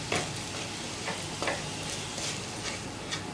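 Potatoes fry in a pan with a constant soft sizzle while a spoon stirs them, scraping and clicking against the metal a handful of times at uneven intervals; no talking.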